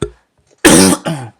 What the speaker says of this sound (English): Keep coughing this morning,